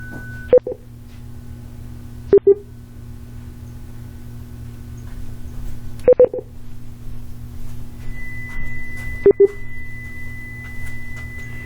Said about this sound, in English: if you hear that beeping in the background